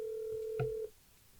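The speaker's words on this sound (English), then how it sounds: "Let me phone my best friend. Let me see if she pick up." A phone call is being placed: a steady, close tone holds for under a second, then breaks off after a short blip.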